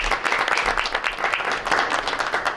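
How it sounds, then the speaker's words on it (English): Applause at a school board meeting, a room of people clapping in a continuous, fairly loud burst of uneven claps lasting the whole moment, with no talk. "Yeah, round of applause."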